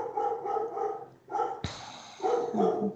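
A dog barks several times in a quiet indoor setting, a series of close, fairly loud barks with a sharp burst in the middle, standing alone without talk.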